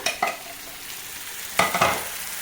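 Curd being stirred into a dhaba-style paneer curry, a few brief scraping strokes of a spoon in the pan over a low sizzle, no voices.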